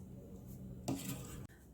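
A spoon clinks against a bowl while cherry and chia preserves are mixed, a short close scrape and clatter with a brief louder knock midway.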